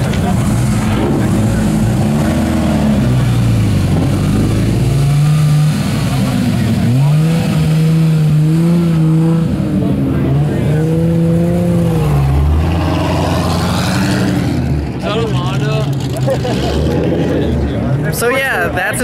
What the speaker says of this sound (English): That's a Viper accelerating.